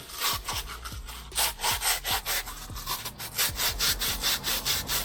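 Very fine sandpaper is rubbed over a brake cylinder on a 2000 Toyota Celica in a rhythmic back-and-forth scraping, about a dozen close, even strokes with no talk.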